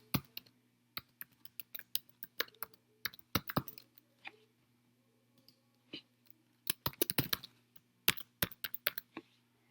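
Login credentials are tapped out on a computer keyboard in a quiet room, rapid irregular clicks in short bursts with a few pauses, close and crisp over a faint steady hum.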